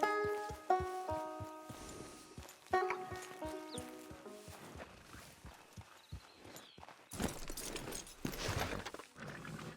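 Horse hooves clip-clopping in Red Dead Redemption 2, a series of distinct hoof strikes in an irregular walking rhythm, with musical tones ringing over the first half and a scuffling rustle near the end.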